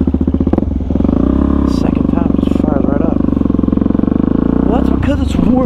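A warm Suzuki DRZ400SM motorcycle engine idles steadily up close with a loud, continuous thrumming drone, while voices talk over it throughout.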